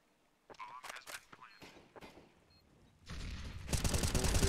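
Rifle fire in a CS:GO esports match between x-kom and GODSENT: faint scattered shots and commentary-like talk early, then a loud, dense burst of sustained automatic gunfire building through the final second and a half.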